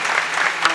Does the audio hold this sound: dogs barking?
no